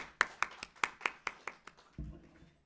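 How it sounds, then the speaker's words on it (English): Sparse applause from a small university seminar audience, about seven distinct claps in a steady rhythm, fairly near, that stop abruptly and give way to a low hum. "please welcome him with a huge round of applause"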